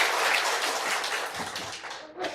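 Church congregation at a Baptist service clapping for a second-year middle school student, a steady, dense wash of applause that carries through and thins briefly near the end.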